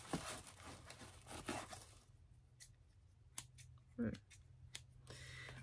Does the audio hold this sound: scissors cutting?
yes